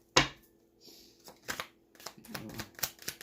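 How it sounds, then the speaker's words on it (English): Tarot cards with gold gilding riffled and tapped in short bursts, a sharp snap at the start followed by quick papery flutters, close up and fairly clear. "Try not to shuffle these ones too hard"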